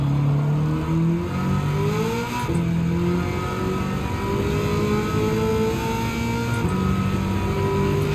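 A 900 BHP Camaro ZL1 engine in Gran Turismo 7 revs continuously, its pitch rising and falling through gear changes, loud and steady with no voices.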